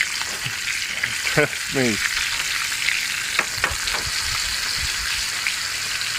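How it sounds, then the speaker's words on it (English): Steaks fry in a cast iron pan, basted with butter outdoors on a mountaintop, giving a loud steady sizzle with a few scrapes and spoon clinks; someone speaks briefly over it. "Baste them up, let them go about another minute on that side."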